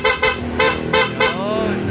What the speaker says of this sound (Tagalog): loud horn with passing